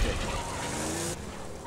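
A car drives and skids in Borderlands 2, a loud engine roar with tire squeal sliding across a second and a half, close and continuous before dropping off abruptly.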